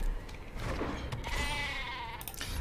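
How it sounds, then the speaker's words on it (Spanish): A goat bleats from a Magic: The Gathering game, a single wavering, nasal bleat of about two seconds, clear and fairly close with no talk over it. "Ahí viene la cabra."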